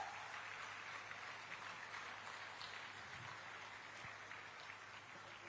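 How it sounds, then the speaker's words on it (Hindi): An audience at a ceremony in Jharkhand where teacher appointment letters are handed out gives steady, faint applause that goes on without a break. It sounds distant, with a diffuse patter like rain. "तालियां आपकी तरफ से जोरदार हो।"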